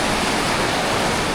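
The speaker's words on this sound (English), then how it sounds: "It's like the rapids." Glacier-fed mountain river rapids rush through Marble Canyon, a dense, steady roar of churning water that fills the scene from close by with no break.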